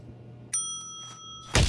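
A bell rings in a Mike Tyson Mysteries cartoon, a sharp ding that sustains clearly for about a second, followed by a thump and a louder burst of noise.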